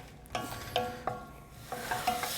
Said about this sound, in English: So we have our onions and our garlic sauteing up really nice. You can hear the sizzle.